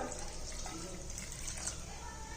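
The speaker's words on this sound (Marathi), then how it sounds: "असं पाणी ओतायचं थोडंसं" A little water poured over freshly collected homemade butter, made from set milk cream, gives a steady close trickle that runs without a break for the whole moment.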